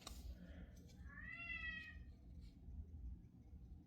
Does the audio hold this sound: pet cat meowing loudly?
yes